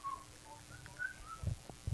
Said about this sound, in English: We got him whistling.